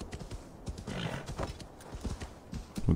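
Hooves of a horse being ridden in the video game Assassin's Creed Valhalla beat out a steady clip-clop up close, with a brief whinny-like swell midway and a louder thump at the end.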